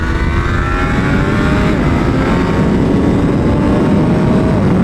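A Triumph Daytona 765 Moto2 motorcycle screams along a race track, its engine held at high revs in a loud, continuous howl that rises and falls slightly with shifts, close and steady with no voices.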